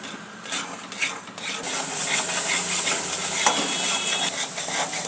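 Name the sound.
stirring date sheera in a kadai until sugar dissolves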